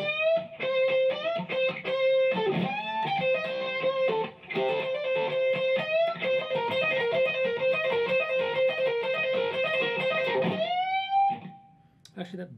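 Electric guitar solo from a live song, played as a lesson example: fast lead phrases with string bends and sustained notes, loud and busy, ending on a rising bend before a brief quiet tail.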